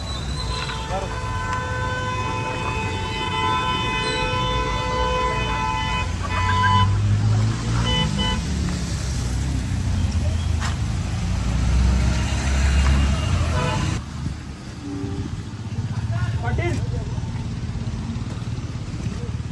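Road traffic on the way to Matheran from Mumbai, a steady engine rumble with several drawn-out horn toots layered over it and people talking nearby throughout.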